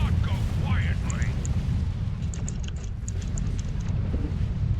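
Gravimetric torpedo blasts in a video game, a continuous heavy rumbling roar of explosions with booming low end and scattered bright crackles over nearly five seconds, loud and sustained.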